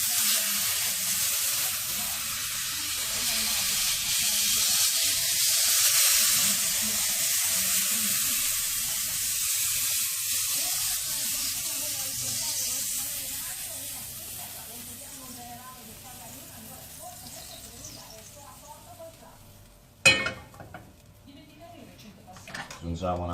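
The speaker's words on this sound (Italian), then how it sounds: "Senti come sfrigge." Butter sizzles in a hot pan on a lowered flame, a steady bright hiss that swells and then eases over about twenty seconds, with a short clatter near the end and a speaking voice underneath.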